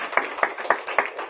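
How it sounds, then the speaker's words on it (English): Rhythmic hand clapping at a Toastmasters club ceremony, five or six evenly spaced claps standing out over a softer wash of applause, moderately close. "Please, round of applause."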